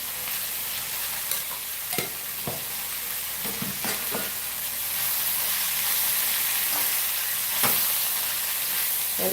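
Tomato and chili masala for tomato rice sautés in a pan, giving a steady sizzling hiss broken by scattered scrapes and stirring knocks that grow slightly louder toward the end, with no talking.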